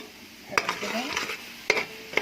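Spices dropped into hot ghee and oil after peanuts were fried in it, with a soft sizzle beneath a few sharp metal clinks and scraping stirs of a spoon against the pan.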